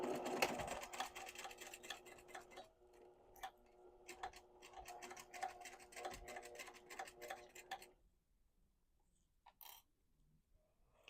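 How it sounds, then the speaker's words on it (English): A sewing machine stitches an underarm and side seam of a peasant dress at a quarter-inch allowance, producing quiet, rapid ticking runs with brief pauses before stopping, followed by near silence and a faint rustle. "we're going to sew this underarm seam and the side seam at a 1/4 inch seam allowance"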